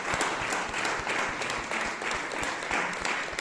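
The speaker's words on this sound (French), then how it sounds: "Je crois qu'on peut applaudir très fort Sylvain pour la précision de son intervention" Audience at a talk on disability and para sport applauds warmly, a dense, continuous patter of many hands clapping, fairly close and steady throughout, with no speech over it.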